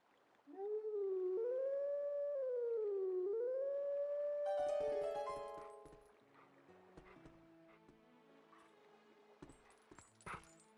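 A wolf howls in Twilight Princess, one long rising and falling wavering cry lasting several seconds up close, followed by quieter game music tones and clinks.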